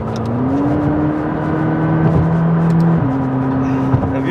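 Turbocharged 3.8-liter engine of a 2017 McLaren 570GT revs up on a wet, rainy day, a steady rising drone that steps up in pitch twice, close and loud with no talking.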